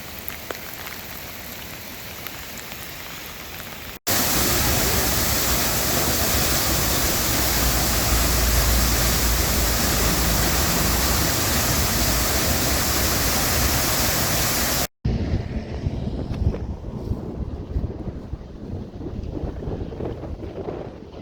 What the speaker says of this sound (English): that's all waterfall coming off the mountain. It's all glacier runoff